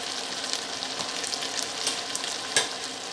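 Biryani masala with added yogurt fries and is stirred in a pan for chicken biryani, a steady close crackling sizzle with scraping strokes and one sharper clatter near the end, no voices.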